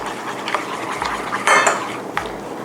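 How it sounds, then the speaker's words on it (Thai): Flour batter and water are stirred in a bowl for coating mushrooms before deep frying, with quick clinking, scraping utensil strokes and one louder burst of mixing. No one speaks. "ละลายแป้งเข้ากับน้ำเรียบร้อยแล้วนะคะ"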